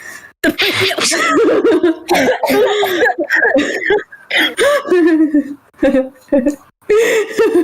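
Loud, close coughing comes in repeated fits, mixed with throat clearing and breathy, laugh-like sounds.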